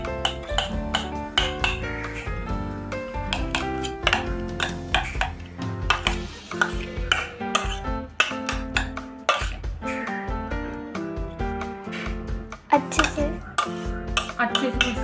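Vegetable salad is tossed in a bowl, with a spoon clinking and scraping against the dish in quick, irregular knocks and rattles throughout, close and fairly loud.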